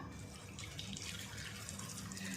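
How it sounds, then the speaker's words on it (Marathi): Cooking water being poured off boiled peas, potato and carrot for a Russian salad, a steady splashing stream running close and continuous throughout. "आता आपण या सला ह्याच्यामधलं ना भाज्यांमधलं पाणी काढून घेऊया"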